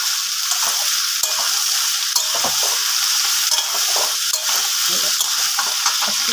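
Ash gourd pieces fry in oil over a cumin tempering with a steady, close sizzle, while stirring scrapes and clatters against the pan throughout.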